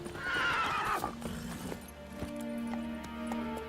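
A horse in the video game The Witcher 3: Wild Hunt whinnies loudly, then hooves clip-clop at a steady pace as it approaches, close and clear.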